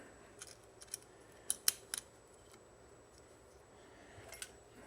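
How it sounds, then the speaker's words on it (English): A snap ring is worked into the fork tube groove of a Honda CRF450R fork, giving a few faint metallic clicks and snaps, close up in a quiet shop. "We'll put our snap ring back in."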